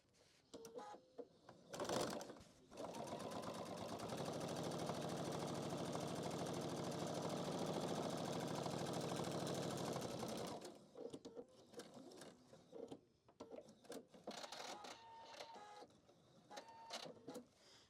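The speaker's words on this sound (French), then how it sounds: "Je vais également coudre cette couture-là." A sewing machine stitches a seam on a fabric handbag organizer, running steadily for about eight seconds, framed by handling clicks and rustles of the fabric before and after.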